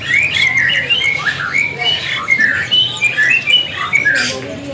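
An oriental magpie-robin calls with varied melodic whistles and chirps, close and continuous, over a busy background hum at a bird market.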